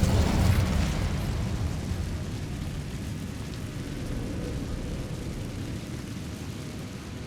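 An Incendio fire spell in Hogwarts Legacy erupts with a loud fiery burst at the start, then settles into a broad sustained roaring whoosh that slowly fades, with no talk.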